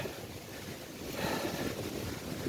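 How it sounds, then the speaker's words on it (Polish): Strong wind roars steadily on a mountainside, buffeting the microphone with a low rumbling gust that swells midway. "Tylko silny wiatr wieje."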